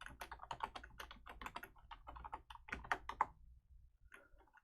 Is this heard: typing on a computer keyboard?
yes